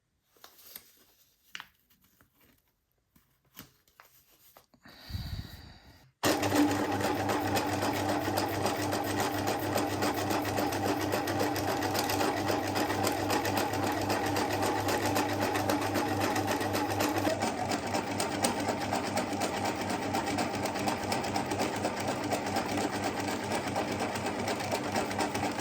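A sewing machine stitches through a postcard-sized piece of artwork, starting after a few seconds of quiet handling noises and then running in a steady, continuous, close whirring drone to the end.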